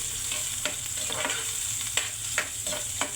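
Steady hiss of onions frying in oil with occasional sharp clicks of a utensil stirring in the pan, close by and moderately loud, no voices.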